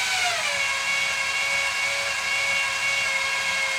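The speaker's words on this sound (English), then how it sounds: "this wire is quite tough, so that the drill's having a hard time of it" A power drill twists tough wire for a homemade toasting fork, giving a steady, loud, strained whine that holds for several seconds without a break, close by and with no talk.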